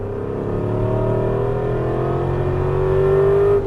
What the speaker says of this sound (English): balance your throttle through and gun it